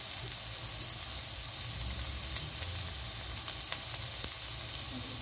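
Tomato going into sautéing garlic and onion sizzles with a continuous soft hiss, dotted with a few small crackles and light taps from stirring.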